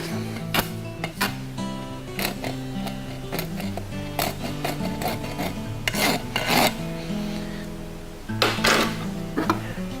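A farrier's rasp files the burr off a horse's hoof during cold shoeing in repeated close, loud, gritty strokes, grouped in bursts with short pauses between them.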